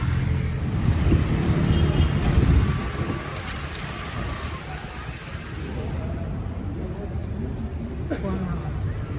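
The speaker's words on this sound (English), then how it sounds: "Hundreds of motorbikes." Busy street traffic at Navarino Square in Thessaloniki, Greece, with many motorbikes: a steady engine rumble and wind noise, loudest in the first few seconds and then settling into a continuous wash, while a person talks over it.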